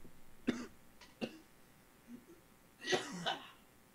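Several short coughs from a single person with a frog in the throat, spread across a few seconds: two sharp bursts, two smaller ones, then a longer rough fit near the end, close and fairly quiet in a church service setting.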